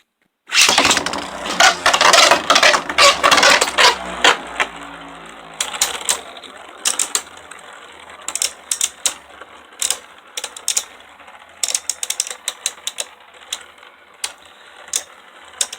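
A Geist Fafnir Beyblade spinning top, hand spun and battling, first a dense loud whirring rattle of the spinning top, then a run of sharp scattered clicks and clacks as the tops collide and slow.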